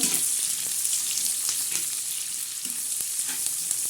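Onion frying in a pan, a steady close sizzle with soft stirring scrapes recurring throughout.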